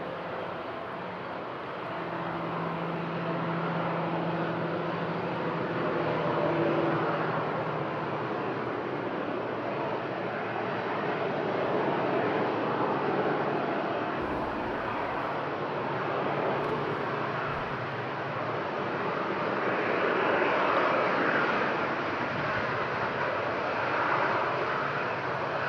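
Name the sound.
TUI aircraft taking off at Madeira Airport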